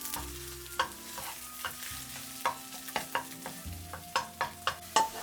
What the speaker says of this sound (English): Cook 2 eggs in 40 seconds. Stir and break them up into small pieces.